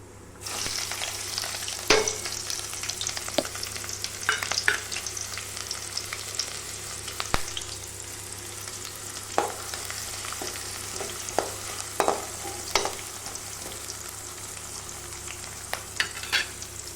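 Sliced shallots and a single green chili fry in hot oil in a pan for goat brain fry, a steady close sizzle with frequent sharp stirring scrapes and clicks throughout, no talking.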